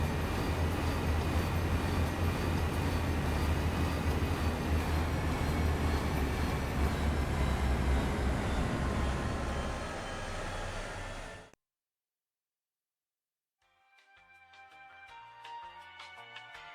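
Aircraft engine drone from a plane coming in to land in the Warium mod for Minecraft Valkyrien Skies, a loud steady roar that cuts off abruptly, then faint scattered clatter after silence.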